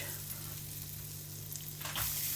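Butter, garlic and onion sizzling in a hot pan, a soft continuous crackling fry that stays faint and even, swelling slightly near the end, with a low steady hum underneath.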